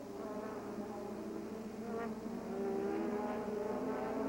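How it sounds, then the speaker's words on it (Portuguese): Formula 1 engines, a Renault V6 turbo in a Ligier and a Ferrari turbo, race together during the 1986 Canadian Grand Prix, a steady high-pitched buzzing whine at a distance that swells louder toward the end. "Uma briga de motores aí."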